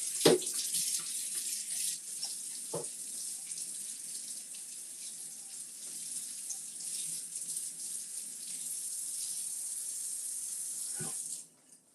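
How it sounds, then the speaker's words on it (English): A silicone rolling pin rinsed under a running kitchen tap: a steady hiss of flowing water with a few soft knocks as the pin moves, stopping abruptly at the end. "I need to wash the rolling pin."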